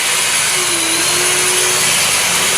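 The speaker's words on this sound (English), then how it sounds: "we got Chuck with the wire wheel cleaning the leaves off" A wire wheel cleans leaf spring leaves on a truck's front spring, giving a steady, loud, continuous whirring grind up close with no break.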